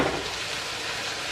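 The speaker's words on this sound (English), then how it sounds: "everything's getting browned up now" Pieces of chicken browning in a hot pan, with a steady, close, even sizzle and crackle of frying, heard alone without talk.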